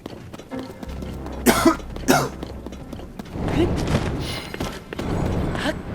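A character in the video game Zelda Tears of the Kingdom coughs from a burn, with several short sharp coughs in quick succession amid game ambience and rumbling effects.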